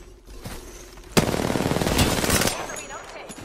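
Rapid automatic gunfire in the Apex Legends battle royale, a sharp crack followed by about a second and a half of loud rattling bursts, then trailing off near the end.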